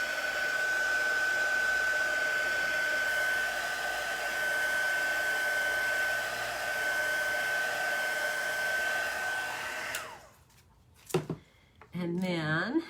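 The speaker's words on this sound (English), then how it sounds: "And then I'm going to just dry those little dots." A hair dryer blowing on small chalk paste dots of a mason jar and fireflies design, a steady whooshing hum for about ten seconds before cutting off, followed by brief handling noises.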